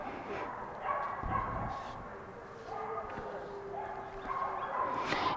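Dogs at a dog show yip and bark now and then amid a busy indoor hall, the barks fairly distant and scattered under a general murmur of crowd noise.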